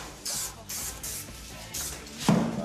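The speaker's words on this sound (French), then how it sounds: "On va passer de la colle en bombe sur la bande." An aerosol can of spray adhesive is sprayed onto a strip in several short hissing bursts, close and fairly soft, ending with a brief clack.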